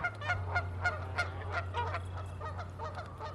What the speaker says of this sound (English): Ducks and geese return in large numbers, bringing with them very loud noises.